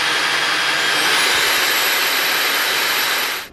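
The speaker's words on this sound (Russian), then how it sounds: "В зависимости от выбранного режима, пылесос выдает от 70 до 75 дБ" A Jimmy HW11 Pro hybrid wet-dry upright vacuum cleaner running, a steady, loud whooshing motor whine with a high-pitched tone, holding constant before cutting off at the end.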